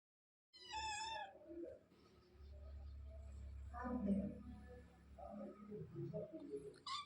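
An injured kitten with bite wounds meows clearly near the start, then softer mews and cries recur over a low household hum, with quiet voices talking in the background.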